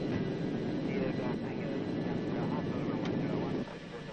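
A Boeing 707 jet in military service builds a loud, sustained roar on takeoff, a dense, steady engine noise that eases slightly near the end while a voice speaks over it.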